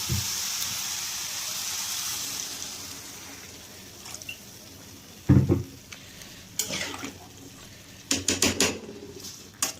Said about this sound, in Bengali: জল দিয়ে ফুটতে দিলেই হয়ে যাবে। জল দিয়ে দিই।